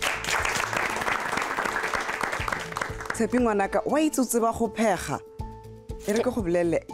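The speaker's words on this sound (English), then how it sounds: "Give yourselves a round of applause." Contestants on a cooking show get a round of applause from the people around them, a brief dense patter of clapping that soon gives way to a host talking over the fading claps.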